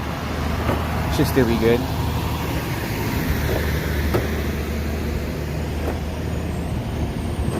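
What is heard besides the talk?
truck passing by on road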